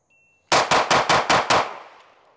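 Six rapid Walther pistol shots fired as fast as possible, evenly spaced about a fifth of a second apart, loud and sharp, with the last report ringing off into a fading tail.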